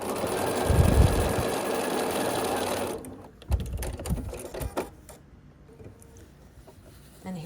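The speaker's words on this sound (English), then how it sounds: "And then we're just going to sew this together." A sewing machine runs steadily as quilt block pieces are stitched together, a close mechanical whir that stops partway, followed by quieter handling clicks and rustles.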